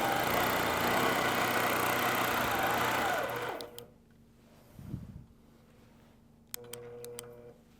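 A sewing machine runs steadily and loudly as it bastes the sides of a quilt for paper pantograph quilting, then stops abruptly, followed by quiet handling and a few soft clicks and a short whir near the end.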